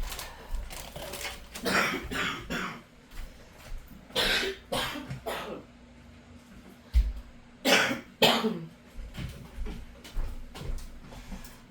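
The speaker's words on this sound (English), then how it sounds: "Excuse me, I have to cough." Several bursts of coughing, harsh and close, coming in clusters with short pauses between them.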